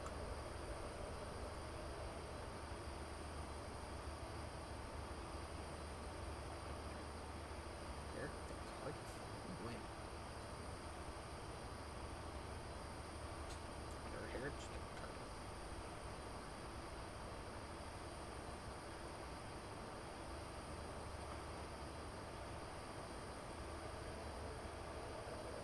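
An HST high-speed train rushes past close by, its steady, loud broadband roar of wheels and engine holding at an even level from start to finish without easing off.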